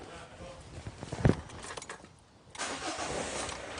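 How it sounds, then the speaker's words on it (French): A car engine cranks and catches right after its battery is replaced, with the hood still open. The engine then settles into a steady nearby idle. "C'est bon, le véhicule démarre"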